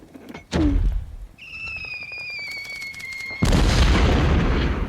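A mortar strike called onto an enemy spotter on a bridge in a Bolt Action WWII tabletop battle: a dull thump, then a steady high whistle for about two seconds before a loud, rumbling blast that roars on to the end.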